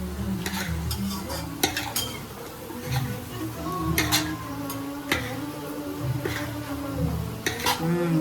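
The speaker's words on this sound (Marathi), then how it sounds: "व्यवस्थित मिक्स करून घेऊया आपण ते, म्हणजे प्रत्येक चिकनच्या पीसेसला हे सगळं मसाला जे आहे ते लागला पाहिजे." Chicken pieces being mixed with masala for biryani, with a utensil scraping and clinking against a pot in an irregular rhythm, close and clear, over a soft sizzle and a little background noise.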